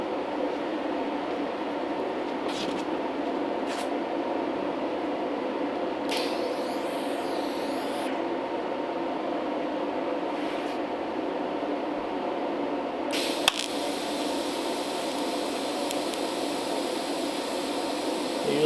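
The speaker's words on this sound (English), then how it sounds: "I'm welding on DC as I'm moving my torch here." DC TIG welding on steel with filler wire, working on a 1939 Ford Tudor hot rod: a steady, continuous electrical hum and buzz runs the whole time with small shifts in tone, close and even, with no talking.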